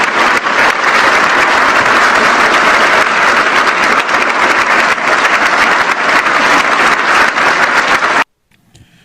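An audience applauds Alexandre de Moraes's speech defending the electoral justice system, steady loud clapping filling about eight seconds before it cuts off abruptly into near silence.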